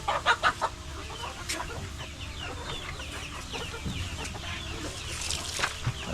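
Chickens cluck in a farm pen, with several birds making short, uneven calls near and far over a steady background hum.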